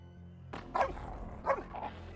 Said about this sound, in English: Hated those dogs.